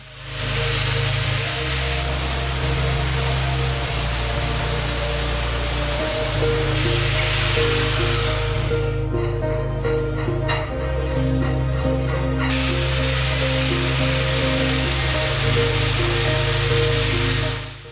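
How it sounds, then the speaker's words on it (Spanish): Loud, continuous whine of a drill and angle grinder with a steady low drone, shifting in pitch and intensity in several sections as they round off a metal nut; no voices. "con el taladro y una amoladora redondeamos de esta manera la siguiente tuerca"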